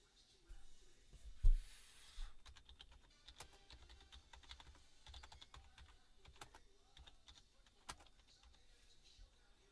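Quiet computer keyboard typing, with irregular bursts of soft key clicks close by and a louder knock near the start.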